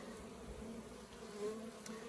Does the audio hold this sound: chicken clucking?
no